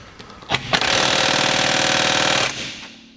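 Impact wrench hammering at a stubborn bolt during a Holden Commodore build, a couple of short bursts followed by a sustained loud rattling run of about two seconds, close and alone.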